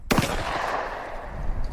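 Shotgun blast from a line of student trap shooters at a fish and game club in mid-May, a single sharp report at the start that decays into a long rumbling echo over an open field.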